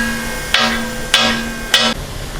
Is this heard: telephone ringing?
no